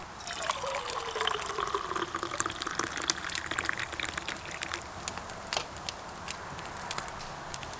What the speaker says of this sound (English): we're going to pour it in the cup.